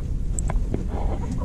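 Roosters and chickens cluck softly in a farmyard, a few brief calls over low background rumble, fairly close but quiet.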